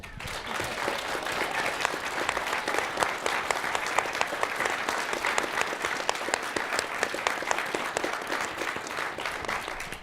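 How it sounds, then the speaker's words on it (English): A room full of people at a humanities contest event gives sustained applause, dense and even clapping that carries on throughout at a moderate distance. "So would this group please give her a round of applause?"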